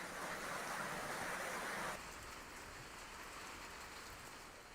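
Unseasonal evening rain falls steadily in a village, a dense, continuous hiss of drops on surfaces that drops slightly in intensity partway through.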